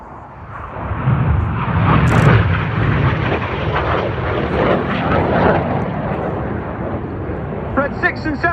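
Red Arrows jets flying an anniversary break during an airshow display at Cosford, a steady broad jet roar swelling and holding throughout, with a commentator talking over it.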